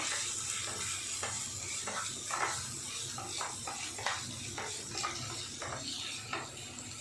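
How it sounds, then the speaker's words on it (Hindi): Ginger, garlic and deseeded green chillies fry in a little oil in a pan, giving a steady close sizzle with intermittent stirring scrapes and light clinks of the utensil. "इन्हें हम अच्छे से थोड़ा तेल में फ्राई कर लेते हैं।"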